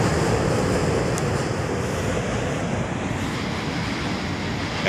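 The tail end of a short CSX freight train rolls past a bridge, a steady broadband rumble and wheel roar holding loud and even throughout, with a faint metallic ping.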